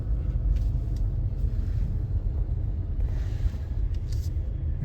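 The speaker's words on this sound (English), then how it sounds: "Yeah, this is a Labrie truck." Labrie garbage truck driving on a road while followed by a car, a steady low engine rumble with road noise and faint higher hiss bursts throughout.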